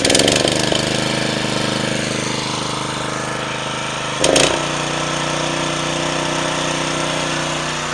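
A Honda GX120 engine on a Trucut edger after a carburetor replacement runs steadily close by with a loud, even, rattling idle and a brief surge partway through before it settles back to a constant drone.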